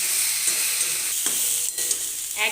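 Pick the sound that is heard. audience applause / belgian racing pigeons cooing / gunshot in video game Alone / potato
potato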